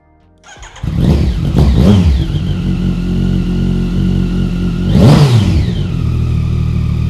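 A 2019 Yamaha MT09 Rally Raid motorcycle starts up, then its engine is revved hard in several loud, close blips before settling into a strong steady idle, with no talk.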